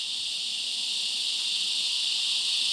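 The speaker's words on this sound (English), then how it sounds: "Cicadas are funny, there's like thousands of them out there." Thousands of cicadas buzz outdoors in hot weather, a loud, unbroken high-pitched drone that holds steady and swells slightly throughout.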